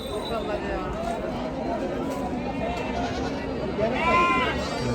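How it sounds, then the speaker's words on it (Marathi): Sheep bleat repeatedly at a large goat and sheep market in Chakan, Maharashtra, amid a busy crowd's chatter and constant background bustle, with one louder bleat near the end. "इकडं या शिंगावाल्या मेंढ्या सुद्धा असतात"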